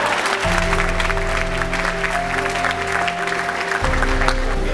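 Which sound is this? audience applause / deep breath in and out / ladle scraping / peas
audience applause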